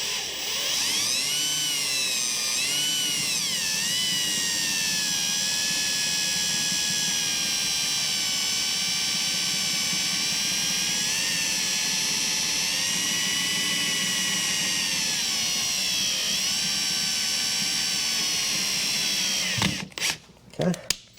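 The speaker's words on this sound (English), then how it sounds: "you're only trying to drill through just the casing for the seal, nothing more." Power drill whining steadily and loudly as it bores through the seal casing of a Walker Mower 25i 48 GHS deck gearbox, pitch wavering slightly under load before cutting off near the end with a few brief clatters.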